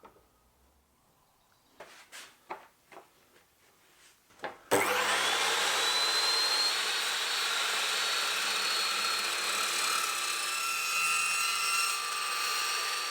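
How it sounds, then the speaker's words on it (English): A few light knocks and handling clicks come first. Then a big metal chop saw spins up and bites into an aluminium door sill, making a loud, steady whine and grinding rasp that holds for about eight seconds. "Although I'm using this big metal chop saw, the sill is actually made from aluminium"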